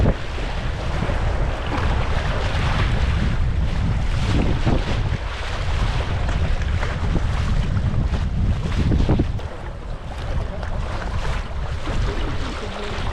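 Canoe moving over choppy water on a river trip, a steady rush of water and splashing with heavy wind buffeting the microphone throughout, close and loud, no voices.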